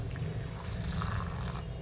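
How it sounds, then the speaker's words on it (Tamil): Water poured into a blender jar holding ground spice powder, a continuous soft splashing wash at low level with no speech over it. "இப்போ தண்ணி சேர்த்துக்கலாம்."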